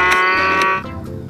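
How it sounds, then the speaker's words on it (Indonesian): A loud, sustained cow moo, harmonic and buzzy, fills most of the moment before cutting off abruptly, leaving quieter background sound. "Dan juga ada sapi."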